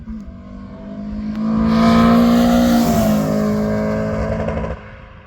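Peugeot 309 GTi with a caged interior gives a sharp engine rev, pitch climbing quickly to a loud, rasping peak, then easing back down. Close and loud, with no talking over it.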